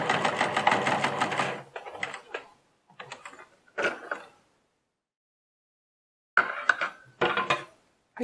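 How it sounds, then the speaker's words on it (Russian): Domestic sewing machine running a stitch line along the edge of non-fraying fabric for a key holder, a fast whirring burst followed by short stop-start runs and quiet gaps, close by. "я просто строчку прокладываю по краю"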